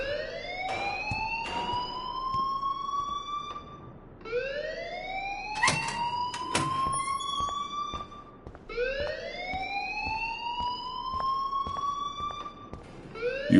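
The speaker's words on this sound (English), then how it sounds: "please turn off that alarm since that's your job" A repeating siren-like alarm in the video game Life is Strange wails in rising sweeps, three long cycles that climb and hold, loud and continuous with a few sharp clicks cutting through.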